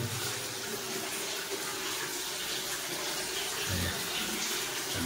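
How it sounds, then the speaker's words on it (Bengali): Water runs steadily inside a house under construction, a continuous even rush like an open tap that stays at one level throughout, with a faint low thump near the end. "এই যে জল ঘরে জল পড়ছে।"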